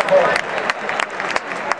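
Audience applauding at a women's long jump competition in a junior athletics championship, a steady wash of clapping with scattered sharper claps and crowd murmur throughout.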